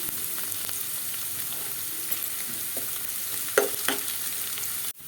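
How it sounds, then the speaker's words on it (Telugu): Onions, green chillies and curry leaves fry in a pan with a steady, dense sizzle, broken by a few louder stirring scrapes near the end. "ఉల్లిపాయ ముక్కలు సగం ఫ్రై అయ్యాక పచ్చిమిర్చి వేసుకుందాం అండి రెండు పెద్దవి ఒక రెప్ప కరివేపాకు వేసుకుందాం"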